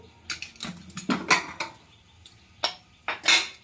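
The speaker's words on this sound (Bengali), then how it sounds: "দশ মিনিট হয়ে গেছে প্রেসার কুকারটা খুলে নেব" Metal clatter of a pressure cooker being opened after cooking Bengali mutton curry, several sharp clanks and knocks with quiet gaps between, close and moderately loud.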